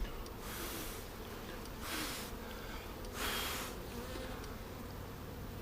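Honey bees in a package colony hive hum in a steady, low drone that swells briefly a few times, close and fairly quiet, with no talking.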